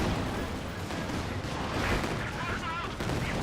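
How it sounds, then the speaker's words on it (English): Artillery and gunfire in the war strategy video game Company of Heroes 2 pound in dense, overlapping bursts and rumbling booms, a continuous battle din with brief whistling tones. "There's just a lot of artillery there."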